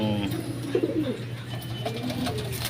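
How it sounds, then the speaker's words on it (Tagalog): A crossbreed racing pigeon coos softly a few times at close range, with faint chirps from other birds and a steady low hum in the background. "Bali itong ibon, anak ni Pogi, crossbreed ng Peter Sea Line"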